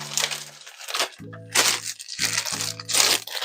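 A plastic bag holding a one-pound pack of pre-sliced carrots crinkles and crackles in a few close, sharp bursts, separated by short pauses and low tonal sounds.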